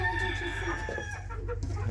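Chickens clucking close by, a few short calls over a steady low hum.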